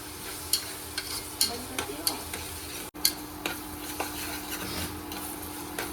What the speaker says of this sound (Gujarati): ડુંગળી ટમેટાને તેલમાં સાતળવાના